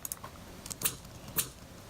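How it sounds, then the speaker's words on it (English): A processed scissors sample, several short crisp snips and clicks spaced irregularly, the two strongest near the middle and end, close and dry with no background sound. "I've got my scissors sample here"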